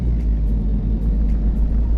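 A truck engine in American Truck Simulator drones as a continuous, loud, deep rumble while driving, steady from start to finish with no voices.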